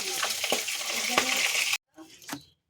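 Fish fries in a pan with a close, crackling sizzle and a few sharp clinks of a spatula, then drops to near silence before a brief last burst.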